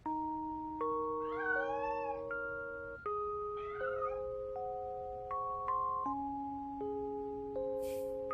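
A cat meows in a long, drawn-out wail over steady background music, with a second rising cry a little later, close and clear.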